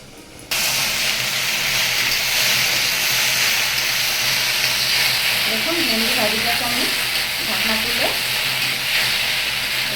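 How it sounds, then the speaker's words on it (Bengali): Okra (ladies finger) frying in a pan for a vegetarian dish, a loud continuous sizzle starting abruptly after a brief pause, with a few faint tonal squeaks in the middle, no talking. "আবার একটু নেড়ে চেড়ে দেবো আস্তে আস্তে অনেক সময় ধরে ভাজতে হবে"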